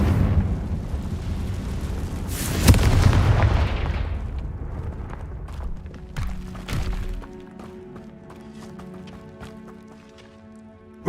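A Confringo explosion spell from Hogwarts Legacy erupts in a loud, deep blast that swells and rumbles for several seconds, then a second thud lands before the noise settles into scattered light ticks and soft ambience.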